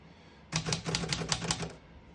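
Rapid keystrokes on a 1933 Royal O Model portable typewriter with Elite typeface, a close, crisp burst of about a dozen mechanical clacks over roughly a second and a half, with no voices.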